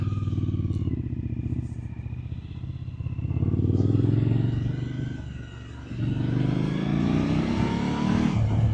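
A motorcycle climbs a hill road on Lydeard Hill. Its engine rumbles up close the whole time, and the revs rise and fall as it pulls uphill.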